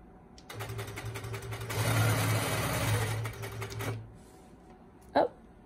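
A sewing machine stitches while quilting with rulers in precision mode, a steady rapid whirring run of about three seconds that swells in the middle, then stops, followed by a brief sharp knock.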